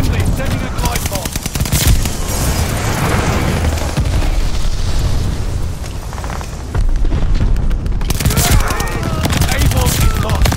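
Glide bomb strikes in a multiplayer shooter land amid dense machine-gun fire and repeated booms, loud and close throughout, with a brief lull before the barrage resumes.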